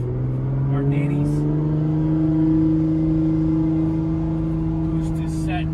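Nissan GT-R R35 with Valvetronic Fi Super Sport exhaust, running on E85, gives a deep, loud, sustained drone that stays fairly level in pitch rather than climbing, heard close with faint background sounds.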